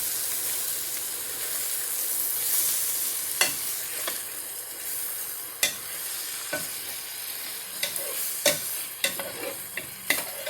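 Salmon fillets frying skin-side in a hot pan, a loud, steady sizzle and hiss with occasional sharp clicks and taps as the fish is spread out and moved around.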